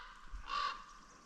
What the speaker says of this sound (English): Bloody crows, relentless, eh?